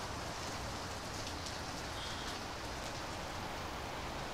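Steady rain pours down, a dense hiss of drops striking surfaces close by, unbroken and even from start to finish with no voices.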